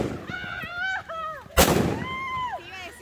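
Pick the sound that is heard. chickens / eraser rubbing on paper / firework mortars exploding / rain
firework mortars exploding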